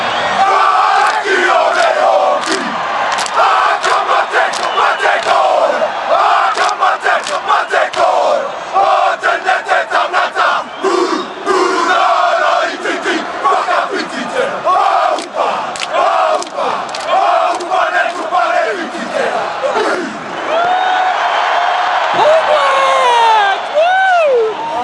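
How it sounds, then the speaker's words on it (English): The All Blacks rugby team performs the haka for a stadium crowd after winning the 2011 Rugby World Cup, heard as sustained loud rhythmic chanting and shouting mixed with roaring crowd noise throughout, with whoops and cheers rising near the end. "the same haka, 24 years on, from the team to the crowd."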